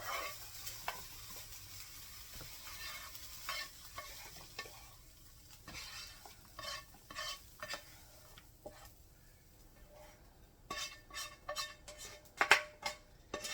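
Peppers and onions fry on top of potatoes in a pan with a quiet, steady sizzle. A utensil scrapes and stirs in irregular bursts, and a few sharper clinks of metal on the pan come near the end.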